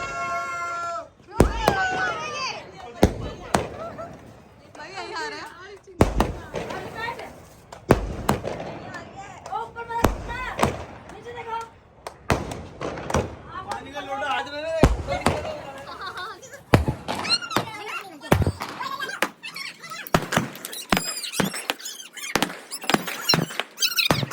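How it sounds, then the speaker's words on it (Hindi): Aerial firework shots burn and burst outdoors during a Bhai Dooj celebration, with a string of loud, sharp explosions at irregular intervals, some in quick clusters, while people talk and shout throughout. "सब ये शॉट्स देखने के लिए इधर आ गए थे सारे और ये शॉट्स अच्छे से जल रहे थे"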